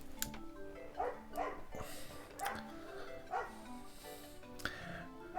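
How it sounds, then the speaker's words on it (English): A dog barks repeatedly in the background, several sharp yapping barks at irregular intervals, fairly faint and distant in a quiet room. "It looks like you all can hear that dog barking in the background."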